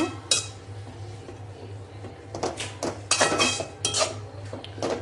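A spatula scrapes and knocks around a pan while spring roll filling splashed with soy sauce is stirred, giving irregular metallic clatters over a low steady hum, with busier bursts in the second half.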